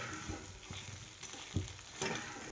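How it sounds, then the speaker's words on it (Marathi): Jaggery melting in a pan gives a steady low sizzle and bubbling, with occasional stirring scrapes and clinks, close and fairly quiet throughout. "हा गूळ आहे ना मी फक्त वितळून घेणार आहे"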